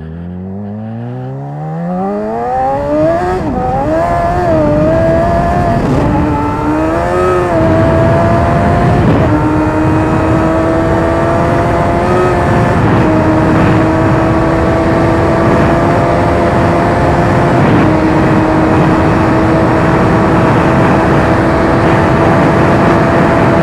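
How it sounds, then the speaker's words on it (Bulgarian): A Yamaha MT-07 motorcycle engine revs up steadily from low to high, then holds a constant droning pitch with small shifts, close and continuous throughout. "Дай да пробвам този мотор аз"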